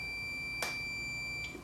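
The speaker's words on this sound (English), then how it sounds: "That beep indicates that it is connected." A digital multimeter sounds a continuity beep while probing a potentiometer's wiper lead during an electronics repair: a steady, sustained tone runs throughout, with a brief click partway through.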